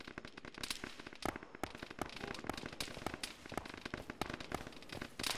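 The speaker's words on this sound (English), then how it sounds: "Guys on the roof of the hangar are shooting at us." Gunfire from enemy soldiers shooting from a hangar roof in a military shooter game: dense bursts of sharp, crackling shots fire rapidly and irregularly throughout, with louder cracks punctuating a steady barrage.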